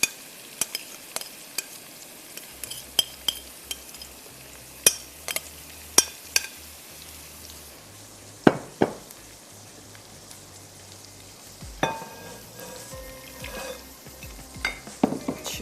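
Spiced meat being added to and stirred in onion-frying oil for biryani makes sporadic clacks and scrapes of a spoon against the pot over a faint, low sizzle.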